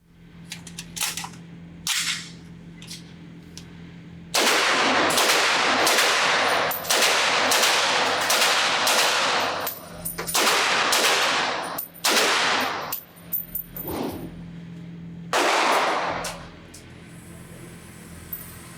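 A Sig Sauer MCX-Spear 6.8x51 short-barreled rifle is fired at an outdoor range: a couple of isolated shots, then a long string of loud, sharp reports in fairly quick succession, with a brief pause and a final few shots.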